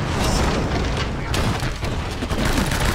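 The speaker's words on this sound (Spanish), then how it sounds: "Mira qué tiroteo nada más llegar" Shootout gunfire in the video game Uncharted: Drake's Fortune, a dense, continuous barrage of booming shots and bursts that fills the clip at steady loudness, with a voice talking faintly underneath.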